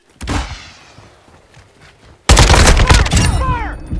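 Gunfire in Call of Duty: Modern Warfare II on a stormy night, a loud burst near the start, a lull, then a sudden heavy volley of rapid close shots that rings out and fades.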